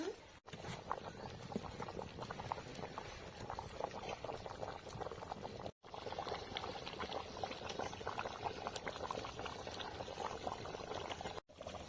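Village-style country chicken curry with potatoes simmers on the stove, a soft continuous bubbling and patter, quiet and close, with no voices.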